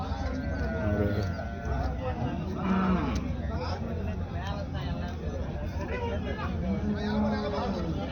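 Buffaloes at a rural livestock market, with low moo-like calls rising now and then through a steady din of crowd chatter and background bustle; people talk throughout.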